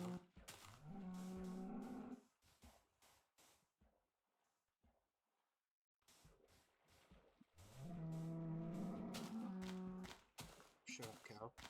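A cow in Minecraft Beta 1.7.3 gives two drawn-out moos separated by a quiet gap, each with a low, buzzy tone at moderate volume.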